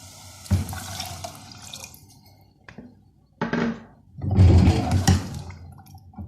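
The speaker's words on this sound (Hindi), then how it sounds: "फिर पानी डालना है।" Water splashes into a pressure cooker pot of red kidney beans in a couple of bursts, with brief clatter in between; close and fairly loud.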